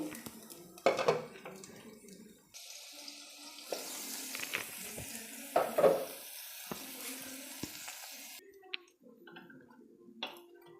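A lid clanks down onto a cooking pan on a medium flame in a home kitchen, with scattered metallic knocks and utensil clatter over soft running-water and sink sounds.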